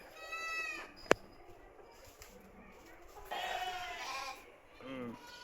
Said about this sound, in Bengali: বিভিন্ন প্রজাতির ভেড়া আছে।